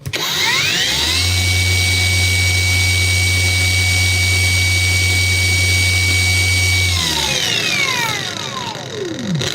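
An angle grinder spins up and holds a loud, steady high-pitched whine with a low hum at full speed, then winds down as it coasts to a stop.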